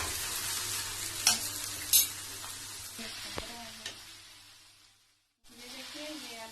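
Vegetables for veg chowmein fry in a pan over high flame, a loud continuous sizzle broken by sharp scraping and clanks of a spoon stirring, then a brief near-silence before the frying hiss returns.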